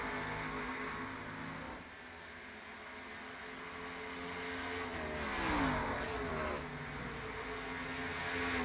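Race cars on the Indianapolis road course in the iRacing game, a steady engine drone with one car's pitch swelling and sweeping past midway, moderately faint.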